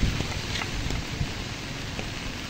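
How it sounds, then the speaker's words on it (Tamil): Heavy rain pours down in Jaffna during continuous storms and flooding, a dense, steady hiss of drops with no pauses, fairly loud and close. "எல்லா இடத்துலையும் சரியான மழை தான் பெய்து கொண்டிருக்குது"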